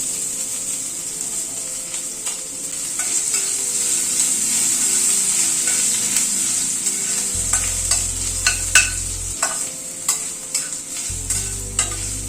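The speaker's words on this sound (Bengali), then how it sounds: "আদা কুচিটা একটু হালকা করে ফ্রাই করে নিচ্ছি।" Chopped ginger, a heaped spoonful, fries in a pan for a papaya curry, giving a steady close sizzle with scraping stirring strokes and occasional clicks.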